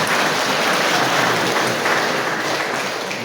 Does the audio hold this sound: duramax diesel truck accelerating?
no